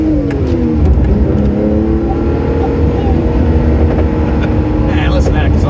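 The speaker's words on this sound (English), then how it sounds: "listen to that exhaust crackling" A Noble M12 GTO 3R sports car drives at night, its engine droning loudly with shifting revs and exhaust burble heard from inside the cabin, steady and close, with a faint crackle near the end.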